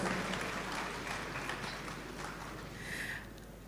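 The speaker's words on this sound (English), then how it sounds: "please give her a round of applause" Soft, scattered applause from an audience welcoming a panelist at a university summer school session at KNUST, fairly faint and diffuse with a low steady hum beneath.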